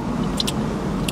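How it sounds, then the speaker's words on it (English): Steady low rumble of city traffic with a passing car, plus a few brief high clinks near the start and end. "Excuse the background noise, I am in the city."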